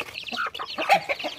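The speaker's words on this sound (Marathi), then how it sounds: "हे आमच्या कोंबड्या आणि ही कोंबडीची पिल्ले" Hens and chicks cluck on a farm, a close, busy run of short overlapping clucks and chirps with no talk over them.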